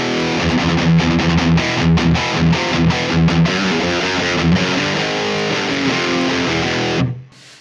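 Distorted electric guitar played through a load box rings out loud and alone, with strummed chords and repeated rhythmic hits over several seconds before a sudden stop and a short fading tail.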